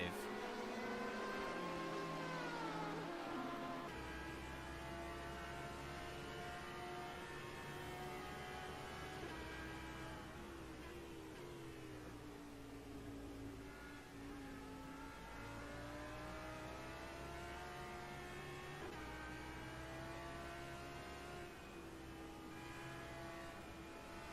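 GT3 race cars scream past at speed, a McLaren 720 among them, engines rising and falling in layered revving whines that rumble continuously, loud and sustained with no clear talking.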